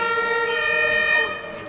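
Ambulance siren on a Berlin street, a steady multi-tone wail sounding close and loud before easing slightly toward the end, with voices faintly mixed in.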